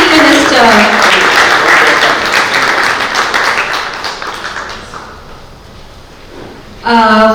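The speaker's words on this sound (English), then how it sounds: "A huge round of applause for the dynamic Chief Minister." An audience claps in a dense, sustained round of applause for the Chief Minister at a Goa book launch event, loud at first and gradually fading away, with a voice briefly starting up at the end.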